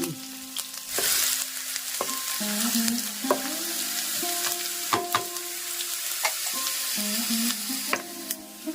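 Mustard seeds, shallots and curry leaves sizzle and crackle in hot oil for a pumpkin-peel curry, a steady close frying hiss broken by several sharp pops and stirring scrapes, with no talking.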